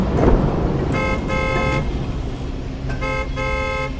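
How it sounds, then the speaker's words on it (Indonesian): A car horn honks twice in short blasts with a pause between, loud and nearby over a background of rumbling traffic. "Aku membunyikan klakson lagi."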